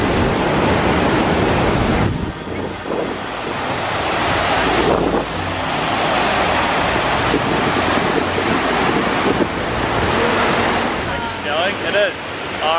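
Roaring noise at a waterfall, loud and constant, with wind buffeting the microphone. A person speaks faintly beneath the din.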